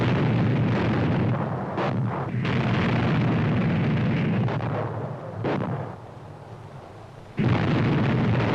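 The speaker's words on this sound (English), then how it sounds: "a cruiser gets the signal to start the bombardment of the beaches" Heavy naval bombardment of landing beaches by a cruiser, with shell explosions in 1960: a continuous loud roar of blasts and rumble, with a brief lull before the barrage swells again.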